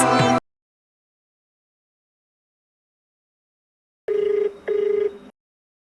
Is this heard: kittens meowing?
no